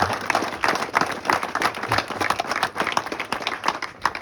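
A crowd applauds steadily for a few seconds at the Tour de l'Avenir 2023 cycling race, a dense patter of many hands clapping at moderate loudness.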